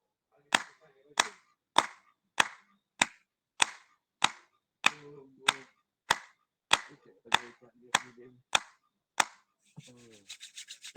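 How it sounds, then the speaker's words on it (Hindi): Fifteen sharp hand claps in a steady rhythm during a group yoga session, loud and close, followed by a brief stretch of rapid rubbing of palms together. "अब ताली बजाएंगे 15 बार।"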